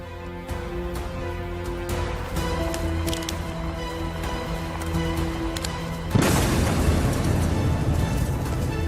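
A sudden loud blast at about the six-second mark gives way to a sustained roaring rumble, following steady mechanical and tonal game-like noise.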